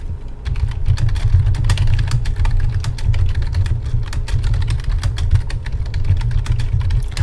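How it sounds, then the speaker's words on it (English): Rapid, loud clicking of keys on a computer keyboard, continuous irregular typing close to the microphone with no voices. "I need to stop typing because I know it's really loud with the keyboard"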